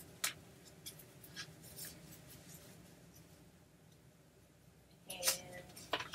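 Pen scratching across journal paper while doodling, soft intermittent strokes in a quiet room, with brief sharper scribbles near the start and again toward the end.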